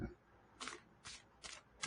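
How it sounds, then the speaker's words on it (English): A deck of playing cards is cut, giving four short crisp riffling bursts spaced evenly about half a second apart, close and fairly quiet with no talking. "I'm going to cut the deck."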